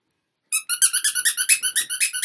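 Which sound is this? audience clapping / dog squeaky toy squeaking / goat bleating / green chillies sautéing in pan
dog squeaky toy squeaking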